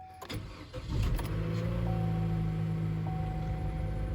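A 2014 Chevy Cruze LT 1.4L engine cranks briefly after a tune-up, catches and settles into a steady idle hum, heard close with no talking.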